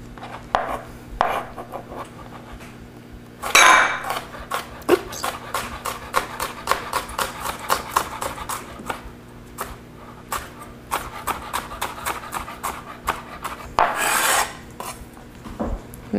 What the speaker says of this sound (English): You're going to break this down into a nice fine mince.